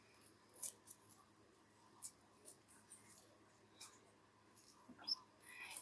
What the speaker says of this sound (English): Actually, I may have to cut the clips.